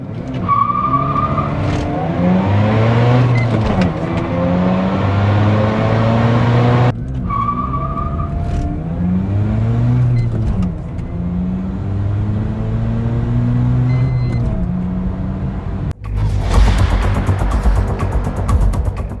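A 1.3-liter sequential twin-turbo rotary car rated at 255 horsepower and weighing 2,700 pounds launches hard from 0 to 60, loud and close, its engine note climbing through several gear changes with brief shift breaks and tire noise, no voices.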